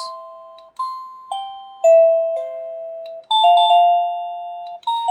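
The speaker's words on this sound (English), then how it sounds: "The one on the left side of the chime, which shows the music symbol, actually changes the tune, and it has 30 different tunes" Plug-in chime unit of a video doorbell stepping through its built-in tunes, loud, clear electronic ding-dong notes in short melodic bursts, each new tune starting abruptly after a brief gap, with no voices.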